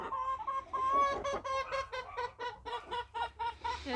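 Chickens in a winter coop cluck and call together in an evening chorus, a steady overlapping stream of close, moderately loud clucks and squawks with no one speaking.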